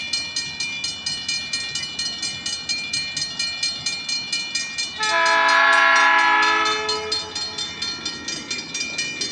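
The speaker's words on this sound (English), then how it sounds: "That train's moving real slow." A slow-moving train rolls past a crossing on Michigan Street, its steady rhythmic clatter of wheels over rail joints broken midway by a loud, sustained multi-tone horn blast lasting several seconds before the clatter resumes alone.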